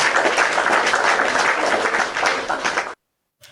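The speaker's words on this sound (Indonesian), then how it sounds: "Gue boleh tepuk tangan buat diri gue sendiri?" A woman claps her hands for herself in a studio setting, a quick, close, continuous patter of claps lasting about three seconds before cutting to silence.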